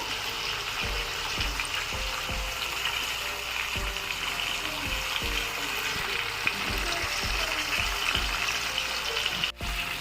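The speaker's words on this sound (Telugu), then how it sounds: "ఒకవైపు అంతా వేగే వరకు ఇలా వేయించుకోవాలి ఆయిల్లో" Fish pieces for a green masala fish fry sizzle steadily in hot oil, a dense continuous crackle with periodic low thumps throughout, close and alone with no talk.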